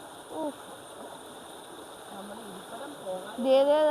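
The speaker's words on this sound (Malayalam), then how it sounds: "ഇതാ കല്ലോട്ട് വെള്ളം അടിക്കുന്നതൊക്കെ" Rushing flood-swollen river water runs steadily over rocks, a continuous gurgling wash with a voice speaking over it near the end.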